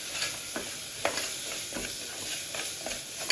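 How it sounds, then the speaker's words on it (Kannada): Mutton masala roasting in a pan for a garlic-heavy mutton dish gives a steady, close sizzle with a few soft scrapes as it is stirred. "ಈಗ ನೋಡಿ ಸ್ವಲ್ಪ ಎಲ್ಲ ರೋಸ್ಟ್ ಮಾಡ್ಕೊತೀನಿ."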